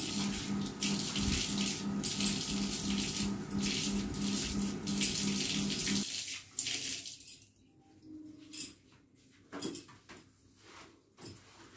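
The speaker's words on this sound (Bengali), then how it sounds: "স্কচ ব্রাইট দিয়ে সার্ফ দিয়ে একটু ঘষে।" Tap water runs steadily into a sink for several seconds, then stops, leaving sporadic scraping and clattering as a pot is scrubbed with a Scotch-Brite pad and Surf detergent.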